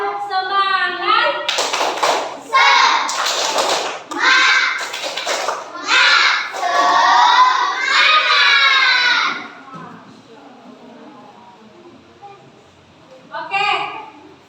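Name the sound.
children doing a tepuk semangat rhythmic clapping chant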